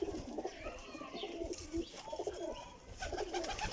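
Imported-breed pigeons coo repeatedly at close range, soft throaty calls overlapping one another against a busy background.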